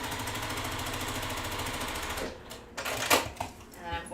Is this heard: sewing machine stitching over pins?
yes